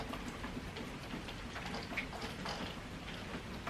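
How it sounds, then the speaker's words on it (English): Rainwater dripping off a drain pipe outdoors, a steady wash of rain with scattered irregular drips and one clearer drop, soft and continuous with no voices. "you can hear the water dripping off the drain pipe"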